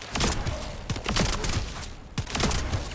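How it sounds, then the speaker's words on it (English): Rapid bursts of explosions go off in the video game The First Descendant, a dense, crackling string of overlapping blasts during a damage test. "All the explosions, you can see the damage they're all doing."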